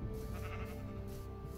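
Sheep bleat in the Minecraft FTB Ultimate modpack, set over a steady bed of game music and ambient tones, the bleating continuous and fairly quiet throughout the short stretch.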